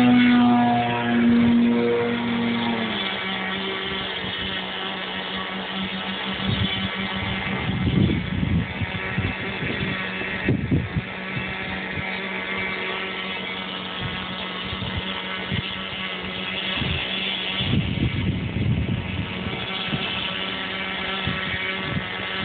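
An MXS-R model airplane flies with its engine throttled, a steady propeller drone heard continuously throughout that swells and fades slightly as it passes, with a loud constant hum underneath.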